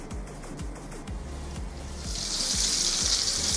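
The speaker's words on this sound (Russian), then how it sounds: "накрываем крышкой и жарим" Steady sizzling and crackling of chopped meat cutlets frying in a covered pan, with a low repeated thumping underneath and the hiss swelling louder toward the end.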